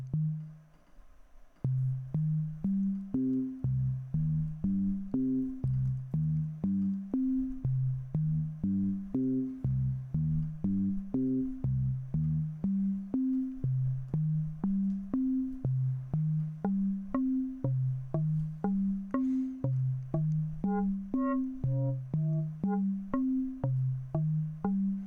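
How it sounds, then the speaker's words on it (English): A monophonic FM synthesizer built in Max4Live plays a fast looping sequence of short, wooden, plucky notes that bounce between pitches in a steady rhythm, quiet and clean with no voices. "Now we get these kind of wooden sounds."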